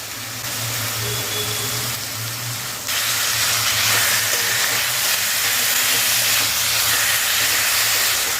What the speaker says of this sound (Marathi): हे आपल्याला छान असं परतून घ्यायचं आहे